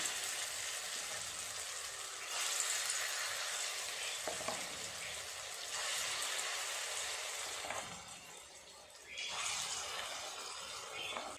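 Lentil paste fritters, mixed with black cumin, onion, coriander leaves and green chilli, fry in hot oil with a close, steady crackling sizzle that swells and dips in waves, with a brief quieter stretch near the end.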